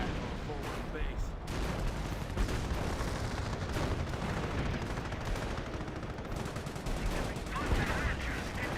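Continuous gunfire and artillery in Company of Heroes 1, with rattling machine-gun bursts and heavier booms layered densely throughout, while a commentator talks over the battle.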